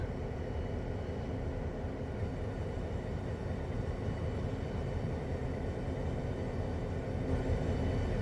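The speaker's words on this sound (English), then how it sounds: "Have a look at our wonderful locomotive here. A double unit." A Montana Rail Link EMD GP9 double-unit diesel locomotive in a train simulator rumbles along in a steady, continuous drone with a low engine throb and rolling noise, moderately loud with no voices.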